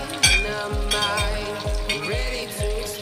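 Shrimp frying in a pan with a steady, loud sizzle, broken by a regular run of low thumps about every half second, as if the pan or a spatula is being knocked during stirring.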